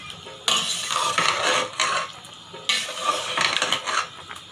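Chili and spices being stirred into chicken karahi in a pan, giving loud scraping and sizzling bursts that come in two long waves. No voice is heard over them.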